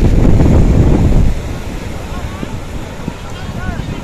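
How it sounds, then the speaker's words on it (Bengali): Wind gusts across Baga Beach in Goa, a loud, rumbling buffet against the microphone for the first second or so, then a steadier, softer blowing that continues to the end. "মাঝে মাঝে ঠান্ডা হাওয়া দিচ্ছে, মাঝে মাঝে গরম হাওয়া দিচ্ছে।"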